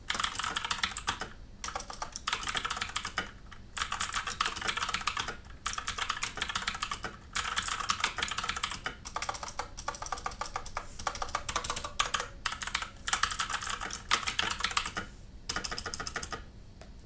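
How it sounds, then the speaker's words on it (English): Steady bursts of typing on a Mechanical Eagle Z-77 RGB budget mechanical gaming keyboard with removable switches, a dense run of close clicky keystrokes broken by short pauses, with no voices. "Just going to give another quick typing test."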